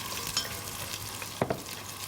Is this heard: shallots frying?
yes